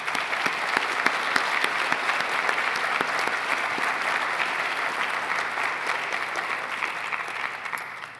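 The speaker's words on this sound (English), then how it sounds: "Please join me in giving Mr. Lawrence, Dr. Hilden, and Ms. Hurst, and our entire Board of Visitors a warm round of applause." Sustained applause from a large audience at a university's State of the University address, a dense, steady wash of clapping that holds level throughout and tapers slightly near the end.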